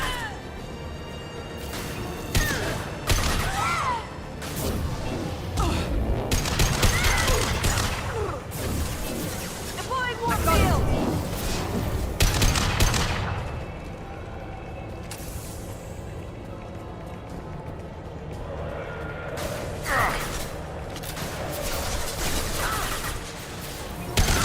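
Rapid bursts of gunfire and crashing explosions in a shooter video game, dense volleys swelling and fading over ongoing game sound, loud and close.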